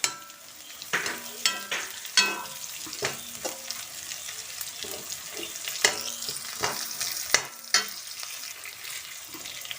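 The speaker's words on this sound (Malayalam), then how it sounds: "നമുക്ക് ഈ സവാള വാടി വരുന്ന വരെ നല്ല പോലെ ഇളക്കി കൊടുക്കാം" Sliced onions sizzle in a hot pan while a spoon stirs them in repeated scraping strokes, loud and close over a constant frying hiss, with no talking.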